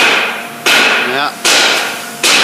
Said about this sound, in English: trying to hammer a drum off his own truck